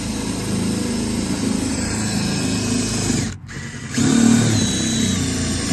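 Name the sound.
power drill drilling car door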